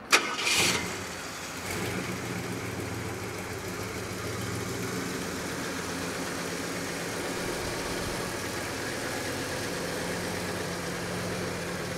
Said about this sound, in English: we're going to go ahead and fire it up for you